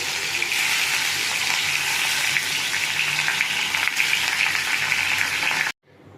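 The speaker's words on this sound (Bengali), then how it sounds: "মাছগুলো ভেজে নেব।" Pieces of katla fish frying in hot oil in a kadai, a steady loud sizzle running continuously without voices, cutting off abruptly at the end.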